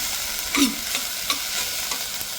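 A spoon stirs onion khichdi of rice, black masala and chili in a pot, giving a few soft scraping strokes over a light sizzle, close and clear.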